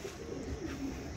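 A pigeon coos softly nearby, a low murmuring call against a steady background hum.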